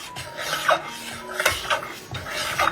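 A wooden spoon stirs and scrapes through thick jaggery syrup with coconut milk reducing in a pan for Karkidaka lehyam, with rough rubbing strokes that come and go unevenly, up close and alone.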